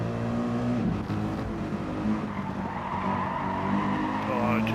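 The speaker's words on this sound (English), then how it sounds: "I just heard the tyre squeal" Race car tyres squealing through a skid in a sim racing event, a loud sustained screech over steady engine drone that holds throughout, with faint talk underneath.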